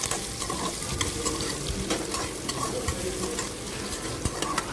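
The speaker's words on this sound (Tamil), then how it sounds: "இப்போது வெட்டி வச்ச வெங்காயத்தை சேர்த்து நல்லா ஃப்ரை பண்ணிக்கலாம்." Chopped onions fry in a pan for a Tamil soya chunk biryani, a steady close sizzle with frequent sharp crackles and spatula scrapes as they are stirred, no voices.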